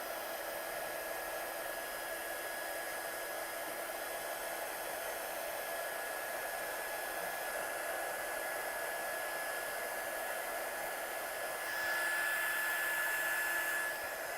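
A heat gun blows a steady, loud rush of hot air across acetate sheet for a craft colouring technique, continuous and unbroken with a slight surge near the end, no voices present.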